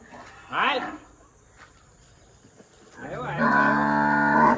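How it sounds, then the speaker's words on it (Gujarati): Cattle at a cow shelter low and moo, one short call near the start and a longer, louder drawn-out bellow toward the end, with quiet barn ambience between. "બધા ભાંભરવા મળે"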